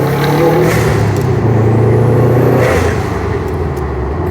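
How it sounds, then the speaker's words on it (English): Turbocharged Subaru STI, tuned by Throtl, revving with loud wastegate flutter on a road drive; a steady close engine roar swells and eases over a few seconds, with no talk. "the wastegate sound is insane"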